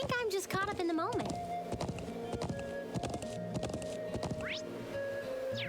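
Horse hooves clip-clop at an irregular gallop in the Trails of Cold Steel video game, a steady run of close, distinct hoof strikes with a brief whinny near the start over game music.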